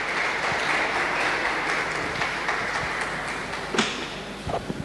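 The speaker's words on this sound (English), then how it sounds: "let's put our hands together and welcome the brain behind Families Conference, Councillor Lutrot," Audience applause at a families conference, a dense, steady clatter of many hands clapping throughout, with a few sharper knocks near the end.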